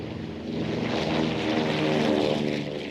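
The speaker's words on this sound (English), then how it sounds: "It proved to be an incredibly rugged twin-engine aircraft" Propeller engines of a C-47 twin-engine transport aircraft, a steady droning hum with a tonal buzz that swells slightly and holds loud and close throughout.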